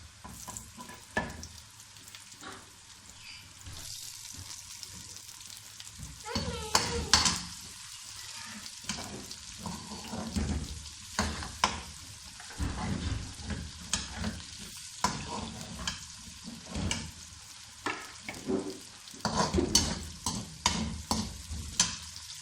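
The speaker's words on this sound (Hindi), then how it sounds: "प्याज हमारे फ्राई हो चुके हैं।" Onions with ginger and garlic fry in a pan while a spoon stirs them repeatedly, giving bursts of sizzling and scraping over a steady crackle, close and moderately loud.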